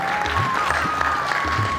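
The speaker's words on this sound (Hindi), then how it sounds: "एक बार जोरदार तालियां होनी चाहिए।" An audience at a Hindi stage play festival in Patna claps together, a dense, steady round of applause that continues throughout, with a faint voice and tone in the background.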